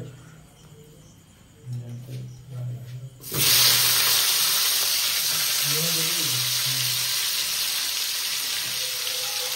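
Whole native fish hit hot oil with a sudden, loud, sustained sizzling hiss that holds steady after a few soft knocks and a brief murmur of voices beforehand.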